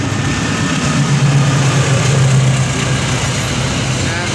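A train locomotive rumbles loudly and steadily at Cikarang station, a deep, constant engine drone with a low hum swelling briefly in the middle.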